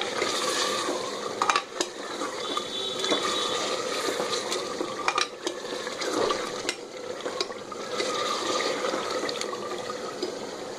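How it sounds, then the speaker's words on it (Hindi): Meat and potatoes for aloo gosht fry in a pan with a steady sizzle, while a spatula scrapes and stirs through it with scattered clinks against the pan. "अच्छी तरह मिक्स करेंगे और इसको भून लेंगे।"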